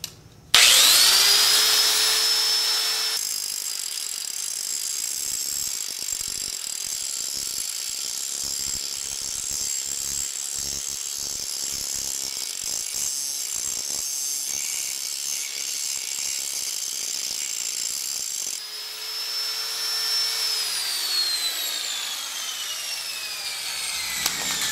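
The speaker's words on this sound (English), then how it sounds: "I'm going to try to rough this out as much as I can with my grinder" An angle grinder roughs out a metal surface in a workshop, a steady loud whine with a grinding, rasping bed running nearly unbroken for the whole stretch, easing slightly toward the end, with no voices.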